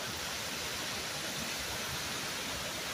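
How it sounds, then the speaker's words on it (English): A small outdoor waterfall gives a steady, even rush of flowing water, close and continuous, with no talking. "But here's a little waterfall."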